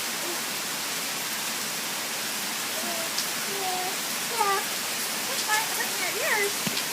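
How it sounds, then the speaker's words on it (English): Steady rain pattering on a car windshield, heard from inside the car as a continuous broadband hiss, with a few faint chirping or squeaking sounds toward the end. "You hear the rain?"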